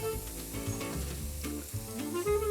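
Garlic and chili stir-fry in a hot pan with a close, continuous sizzle and occasional stirring scrapes, over background music.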